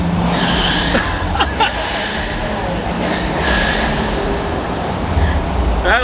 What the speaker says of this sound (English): About the loudest belt squeal you've ever heard.